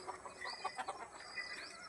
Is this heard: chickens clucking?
yes